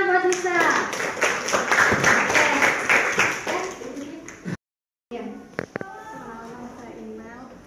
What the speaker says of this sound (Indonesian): kasih tepuk tangan buat Nisa